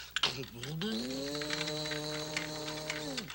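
A voice imitates a vacuum cleaner with a sustained, rising and then steady droning hum that drops off at the end.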